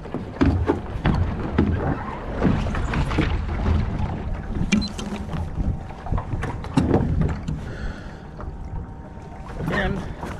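A Contender dinghy sails on open water, with hull and water rushing, wind buffeting the microphone and some rigging and boat handling noises, while a person talks over parts of it.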